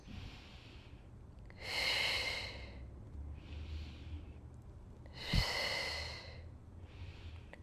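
Slow, deep breathing during a Pilates twist in a calm flow session: two loud, close breaths alternate with softer ones in a steady, unhurried rhythm.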